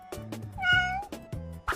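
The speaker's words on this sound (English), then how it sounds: "It's a cat." A cartoon cat on a children's farm-animal lesson gives one clear, rising meow, close and prominent over light rhythmic background music.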